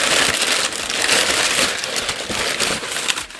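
Plastic and paper packaging from a beauty and nail product order is handled close by, with dense, continuous crinkling and crunching rustles that run without pause for several seconds and no voices.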